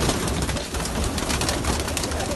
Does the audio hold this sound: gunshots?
no